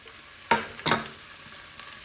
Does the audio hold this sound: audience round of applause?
no